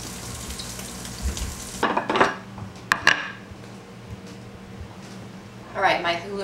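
Halloumi cheese fries in a skillet, giving a steady, close sizzle for the first couple of seconds before a person talks over a quieter crackle.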